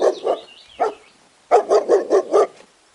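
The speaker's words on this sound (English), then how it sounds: "D for dog." A dog lets out two quick barks, then a single bark, and after a pause a rapid run of five loud barks in a row, close and clear, for a children's alphabet song.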